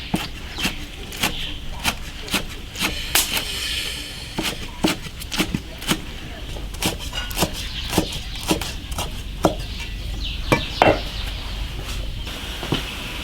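Knife chopping pickled chili peppers on a board in a home kitchen, with rapid irregular sharp taps close by, running steadily through the whole stretch alongside faint background noise.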